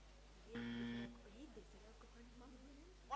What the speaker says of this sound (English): Can you press your buzzers once